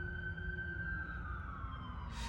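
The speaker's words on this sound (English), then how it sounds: "sorry guys for the sirens" Emergency sirens outside, a steady wailing tone with a slowly falling pitch heard from a distance over low rumbling traffic, with a brief burst of noise near the end.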